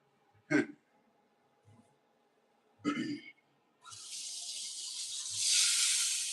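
A kitchen tap opens and water runs into a sink while dishes are washed up, a rising hiss that swells louder toward the end, after two short vocal noises like throat sounds in an otherwise quiet room.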